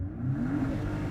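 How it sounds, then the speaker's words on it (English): Car engine revving hard for a launch with the brake held, a short continuous mid-pitched engine roar rising in pitch, close and fairly loud. "Left foot hard on the brake, right foot's going to nail the gas, revs are going to shoot up"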